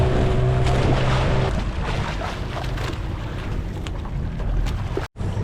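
A steady boat engine drone rumbles on the sea off North Bali, with wind buffeting and water rushing along the hull, loud and continuous, then briefly cuts out near the end.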